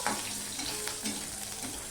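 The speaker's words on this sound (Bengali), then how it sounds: "অল্প অল্প করে দিয়েই ভাজবো যাতে ভিতরটা পর্যন্ত রান্না হয়ে যায় বা সিদ্ধ হয়ে যায়" Steady sizzling of dried lote fish frying in hot oil, crackling and popping close by with no voices.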